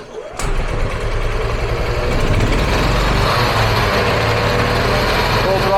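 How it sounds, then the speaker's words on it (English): An EZGO gas golf cart engine, running well after a new spark plug, buzzes loud and steady at full throttle, a rough high-revving drone starting abruptly and holding close without letup. "turns out in the end, it was just a new spark plug, and this thing is running great"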